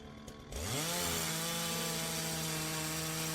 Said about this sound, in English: murmured something inaudible beneath the chainsaw's whine